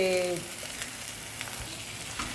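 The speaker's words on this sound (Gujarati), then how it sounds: "હવે આને ઘીની અંદર સારી રીતે મિક્સ કરીને તળવા દેવાનું છે" Grated fresh green turmeric frying in ghee, giving a steady, close sizzle throughout with a few light stirring scrapes and no talk.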